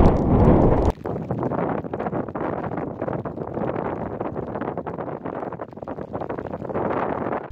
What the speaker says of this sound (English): it's a bit rainy and windy